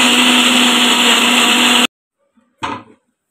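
A kitchen mixer grinder blends mango lassi made with Hapus mangoes and sugar, a loud steady whirring drone that cuts off abruptly, followed by a brief clatter after a pause.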